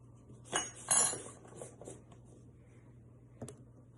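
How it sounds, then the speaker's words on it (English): A whisk clinks against a bowl while a sauce mixture for orange chicken is beaten in a kitchen: a few light metallic taps and scrapes in quick clusters, faint and close, with quiet pauses between. "Go ahead and start to whisk that for me"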